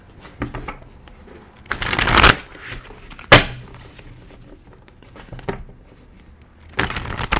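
A deck of tarot cards is shuffled in several quick, riffling bursts with pauses between them, close and fairly loud in a quiet room.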